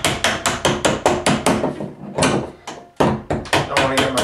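Sharp repeated metallic taps of a hammer knocking the top hinge pin out of a bathroom door, about a dozen close, loud strikes in a quick, uneven rhythm with a short pause midway.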